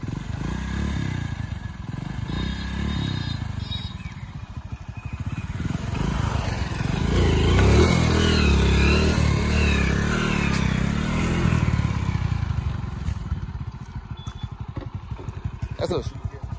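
A motorcycle engine pulls hard and revs up through the gears, a loud close rumbling drone that swells in the middle, with people talking over it.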